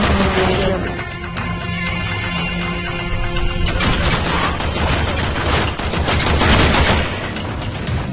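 Gunfire in Warframe: dense, loud, continuous volleys of shots, with tonal game sounds under the first half, then heavier rapid bursts that keep going to the end, and no speech.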